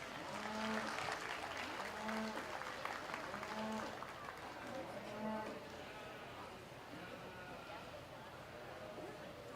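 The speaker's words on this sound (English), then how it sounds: "Let's go ahead and give him one more round of applause." Scattered applause from the crowd at a 4-H/FFA market lamb show at a county fair, heard faintly beneath repeated loud bleating and lowing livestock calls and announcer talk in a busy barn.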